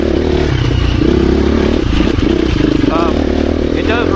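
A 2024 KTM 350 EXC-F four-stroke dirt bike engine revs loud and close, a rough, rattling roar with rising pitch sweeps near the end, and a voice is heard beneath it.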